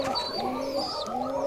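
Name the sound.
young Rajshahi Giribaj pigeons cooing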